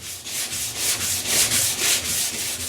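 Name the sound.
sanding with sandpaper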